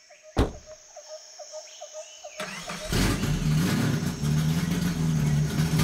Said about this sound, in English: Some of this island's old cars purr like kittens, but ours is so tired that she just chatters like a busy chicken